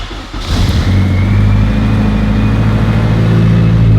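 A Honda Civic street car with a freshly calibrated throttle body and pedal cranks briefly and catches, then settles into a loud, steady, smooth-running engine note close by.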